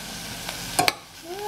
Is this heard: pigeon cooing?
no